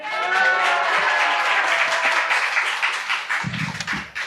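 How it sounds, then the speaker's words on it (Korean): Sustained congregational applause fills a church worship service as the pastor comes forward, a dense, steady wash of clapping from a large crowd that thins toward the end. "우리 목사님 나오실 때 할렐루야를 크게 박수로 환영하겠습니다."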